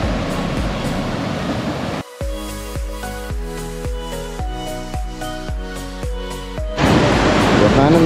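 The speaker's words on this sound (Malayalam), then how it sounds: "ഇതാണ് വാട്ടർഫാൾ." Waterfall at an Ooty tourist spot, a steady broadband rush of falling water heard at the start and end, with music playing over it through the middle.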